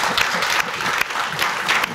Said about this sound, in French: Je vais applaudir